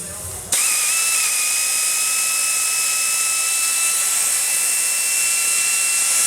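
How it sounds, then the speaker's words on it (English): A power tool runs steadily on the exhaust header bolts of a 2010 Camaro SS with an L99 engine, starting abruptly and holding a continuous high whine with no talk. "We're ready to take the header bolts out."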